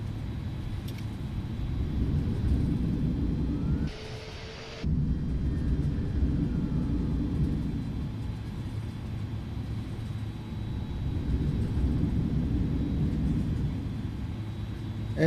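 An airliner rumbles down the runway at Rajiv Gandhi International Airport under manual braking after landing, a steady loud low roar heard from inside the cabin, briefly dropping for a moment before resuming as it rolls off.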